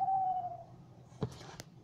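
An owl hooting in the video game Fly like a bird 3, a single smooth, slightly falling hoot, close and clear, followed by a couple of soft clicks.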